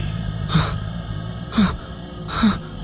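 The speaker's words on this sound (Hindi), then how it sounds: "तभी उसे भयानक सांसों की आवाज आने लगी" Three slow, heavy breaths, each a rough airy rush about a second apart, over a steady low rumble.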